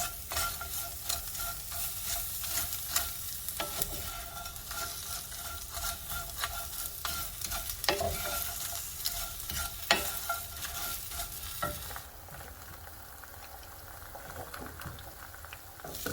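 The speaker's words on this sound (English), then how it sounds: "I'm going to add some onion. This is fresh onion into the pan." Fresh onion sautéing in a pan, with a steady, bright sizzle and frequent stirring scrapes throughout, close up. The sizzle softens a little toward the end.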